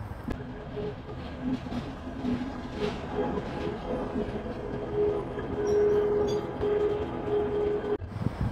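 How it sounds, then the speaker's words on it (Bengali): A Dhaka–Mymensingh Brahmaputra Express train rumbles alongside a platform with steady mechanical drone, a faint squeal rising and holding, busy station ambience throughout, fairly loud and close. "নতুন একটি ট্রেন প্ল্যাটফর্মে এসে দাঁড়ালো"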